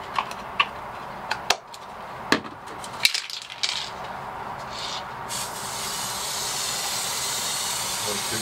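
Aerosol spray paint hissing onto suspension fork lower legs, a few clicks and knocks at first, then a steady close hiss that continues through the rest.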